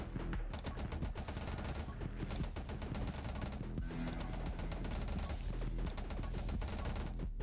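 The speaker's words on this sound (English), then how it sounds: "The shotgun is fantastic." A shotgun fires continuously in a Gungeon-style, Vampire Survivors-like top-down shooter game, with a dense rapid barrage of blasts and impacts layered over game music, steady and moderately loud with no talking.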